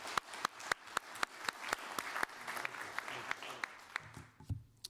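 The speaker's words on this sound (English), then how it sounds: "One more round of applause for Iver." Audience applause closing a talk on clean energy and climate stability, a sustained wash of clapping with sharp individual claps standing out, thinning toward the end.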